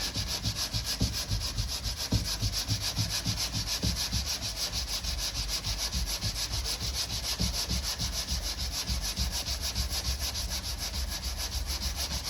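Steady, continuous rasping of sanding on a car body panel, close up, with rhythmic strokes and no talking.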